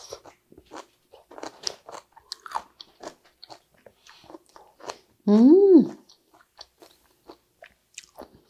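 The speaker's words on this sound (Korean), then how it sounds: "쓴맛을 확 잡은 머위순 장아찌를 한번 먹어보도록 하겠습니다" Crunchy pickled butterbur shoots bitten and chewed close to the mouth, a quick series of crisp, juicy crunches interrupted by one short voiced hum of enjoyment.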